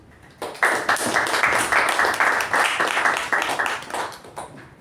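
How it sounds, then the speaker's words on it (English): Room applause at a Toastmasters club meeting, a dense patter of many hands clapping steadily for several seconds at moderate volume before tapering off. "So a round of applause."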